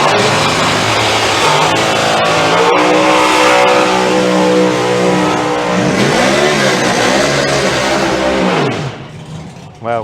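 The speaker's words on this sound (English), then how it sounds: "that is one of the strongest sounding burnouts I've heard from that car" A drag racing car does a burnout at Santa Pod Raceway. The engine roars loud and close, holding steady with tonal revving sweeps, then cuts out near the end.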